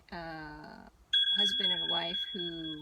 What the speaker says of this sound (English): I hear a bell. That's my phone.